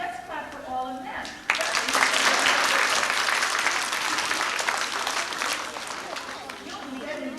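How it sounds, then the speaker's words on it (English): Elementary school children and audience at a Martin Luther King tribute burst into applause after brief talk, a sudden dense round of clapping that swells loud and then gradually tapers while still going. "let's clap for all of them"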